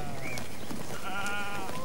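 Moorschnucke sheep bleating, a short call followed by a longer wavering bleat, fairly close and clear with no talk over it.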